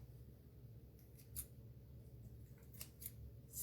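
Scissors trimming loose hanging threads, a few quiet crisp snips spaced irregularly over a soft low background hum.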